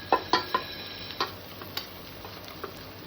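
A few light scrapes and taps as ground coriander and other spices are stirred in a pan, spaced irregularly, soft and close with no talk.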